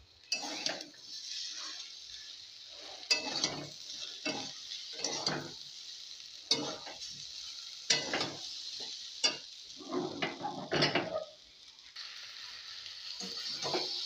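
Shrimp frying in a pan with cumin and ginger paste, a steady sizzle broken by repeated scraping stirs of a spatula against the pan, close and moderately loud with no talking.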